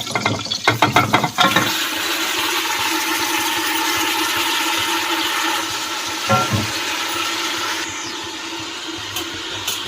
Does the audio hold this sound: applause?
no